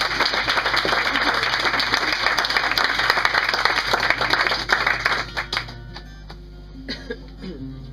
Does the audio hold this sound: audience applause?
yes